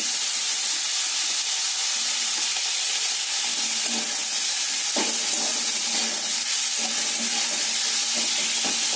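Onions frying in a wok with tempering spices give a steady, loud sizzling hiss with occasional crackles and stirring clicks throughout, with no talking.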